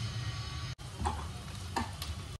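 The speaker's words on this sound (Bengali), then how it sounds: "পেঁয়াজটাকে হালকা ভাজা করে নেবো।" Chopped onions frying lightly in a pan with a little sugar, giving a soft steady sizzle with a few scraping stirs, close and without talk.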